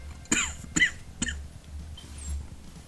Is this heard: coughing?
yes